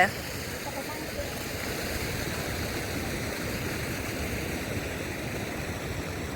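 Tham Phra waterfall in Seka, Bueng Kan, a loud, steady roar of falling water that stays constant and close throughout without any clear talking.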